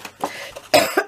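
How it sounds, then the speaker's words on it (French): A couple of short, sharp coughs close to the microphone, with a quieter breathy sound before them. "Excusez-moi, je tousse encore un petit peu."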